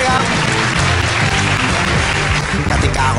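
Studio audience on a Thai quiz show clapping: dense, sustained applause filling the whole stretch at an even, loud level.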